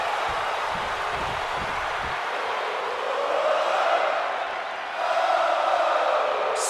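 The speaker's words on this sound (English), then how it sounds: "The crowd is on their feet for Jey Uso." A wrestling arena crowd cheers for Jey Uso, a broad roaring wash of voices with swells and whoops, loud and continuous.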